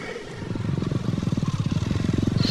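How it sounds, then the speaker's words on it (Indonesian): A motorcycle engine approaches at night, its rapid, pulsing putter growing steadily louder and closer over the few seconds, with no one speaking. "Suara motor siapa, Gun?"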